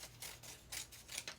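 Scissors snip through a paper strip in several quick close cuts, short crisp rasps spaced a fraction of a second apart, faint and without speech.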